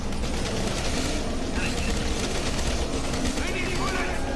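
Gunfire in the Origins zombies map of Black Ops 3, a dense continuous burst of automatic shots running the whole time, loud and busy with game effects layered over it, while players talk over the noise.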